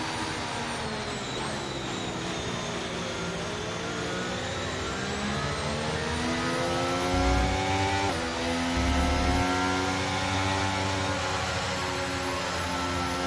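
Formula 1 car engine in the F1 23 racing game revving hard and climbing through the gears, loud and continuous with rising pitch sweeps and brief dips at each shift, heard alone without talk.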